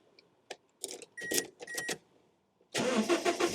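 Keys jingle and clatter in a few short bursts, then a Toyota Hiace Grand van engine cranks and catches, settling into a loud, close idle for the last second.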